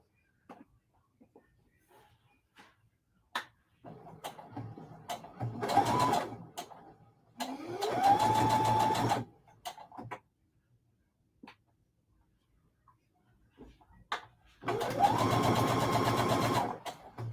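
Several bursts from a sewing machine stitching quilt pieces for a pumpkin block, each run lasting one to two seconds, separated by quiet gaps with small clicks and handling noises.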